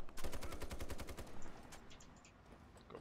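Rapid bursts of gunfire from the online shooter game Ironsight, fired through a wall: a loud, fast string of close shots for about a second and a half, then trailing off into softer scattered game sounds.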